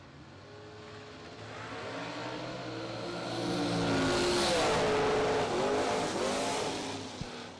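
A drag racing launch pits a Camaro against a blower dragster: the engines roar loud and rising, swelling to a peak midway with tire squeal, then holding a sustained high-revving howl as they run off.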